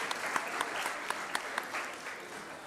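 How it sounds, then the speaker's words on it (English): Applause from a summit audience for a band, a steady wash of many hands clapping with a few sharper individual claps standing out, fairly faint and continuous. "So we must also applaud for them."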